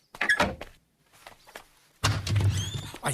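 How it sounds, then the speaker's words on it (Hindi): A door is pulled open indoors with a quick thunk and rattle, a brief pause, then a louder burst of movement and clatter close by. "खिड़की बंद कर, दरवाजा खोल।"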